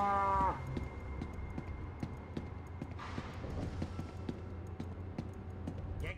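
A short cartoonish cow moo sound effect opens, quickly falling away into a run of evenly spaced, hoof-like clops that continue to the end.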